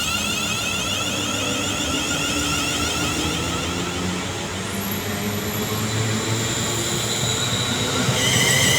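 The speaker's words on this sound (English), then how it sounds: "now departing will be 350-108 and his classmate on the rear" London Northwestern Railway Class 350 unit 350-108, coupled with 350-107 on the rear, departs Lichfield Trent Valley for Crewe. The electric train rumbles and whines steadily, close and loud, with a hiss of wheels and a high squeal.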